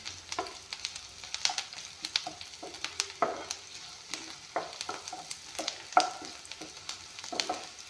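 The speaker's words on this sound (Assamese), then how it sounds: "এয়া চাওক, এইখিনি অলপমান ভাজি ল'লোঁ।" Food frying in refined oil in a pan while being stirred, a steady quiet sizzle broken by repeated sharp scraping stirs, heard alone without talk.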